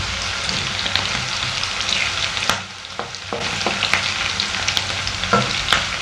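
Onions with fenugreek sizzling steadily in a pan for an Assamese fish curry, with intermittent scraping of a spatula as they are stirred, close and fairly loud with no voices.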